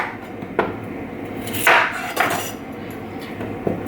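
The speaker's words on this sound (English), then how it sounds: "carrots and I'm just going to top and tail them and then chop them" A knife chops topped-and-tailed carrots on a board for a family meal, giving a few sharp, separate knocks spread over a few seconds against a quiet kitchen background.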